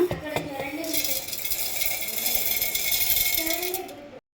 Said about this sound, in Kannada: ಇದನ್ನು ಒಂದು ಮಿಕ್ಸಿ ಜಾರಿಗೆ ಹಾಕೋಣ